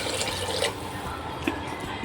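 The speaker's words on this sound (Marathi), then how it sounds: "आता त्यामध्ये बघा 2 ते 3 ग्लास पाणी घालून घेऊया." Water poured into a pot of sautéed dal makes a steady close splashing rush with brief bright drips, moderately loud and unbroken.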